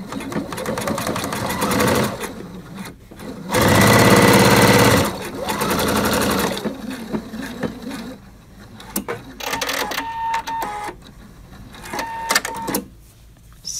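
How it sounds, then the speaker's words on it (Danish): A sewing machine stitches the back seam of a ribbed waistband on homemade trousers, running in several loud bursts with short pauses between them, alone without talk. "Så syr jeg lige bagsømmen her i ribkanten."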